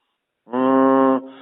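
A three-year-old ox lows once in a single drawn-out, deep, steady moo that is close and loud, followed by a brief quieter trailing call.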